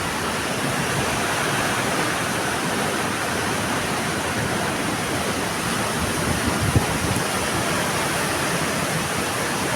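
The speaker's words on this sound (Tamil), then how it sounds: "இதுதான் வருது காட்டாற்று வெள்ளம். புதுக்கோட்டையிலேருந்து வருது." Flash flood water from Pudukkottai rushing past, a loud, steady, broad roar of churning water that keeps up without a break and has no voices over it.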